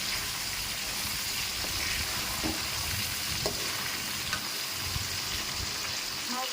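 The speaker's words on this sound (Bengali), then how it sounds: "এখন মাছগুলো একটু কষিয়ে নেব।" Fish sautéing in a pan gives a steady, close sizzle and frying hiss, with occasional faint stirring clicks and no clear talk.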